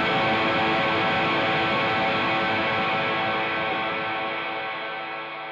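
A sustained, distorted guitar chord through a Zoom G6 multi-effects processor, with reverb placed before the amp, rings out with a washy reverb tail, slowly fading toward the end.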